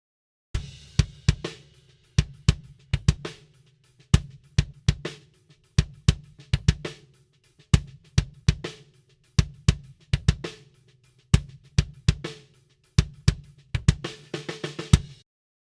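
Drum kit captured through a microphone placed inside the kick drum with no EQ or effects: a steady groove of punchy, boomy kick hits with snare and cymbal strikes ringing through, close and loud with no voices.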